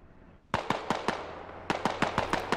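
AR rifle fire in the SquadOps combat game: two bursts of sharp, loud cracks, four rapid shots, a brief pause, then about six more, crisp and close with no talking.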